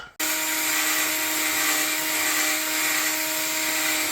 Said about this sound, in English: let's put some WD-40 in there